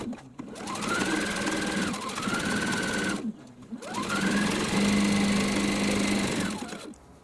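A sewing machine stitches quilt binding straight onto the batting in two long bursts of fast, even whirring and needle clatter. The motor spins up and winds down around a brief pause between them, close and loud with no talk.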